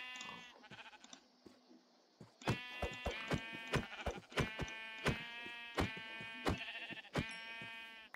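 Sheep in Minecraft bleat repeatedly in a quick, overlapping chorus, several calls stacking close together with sharp clicks between them and no talking.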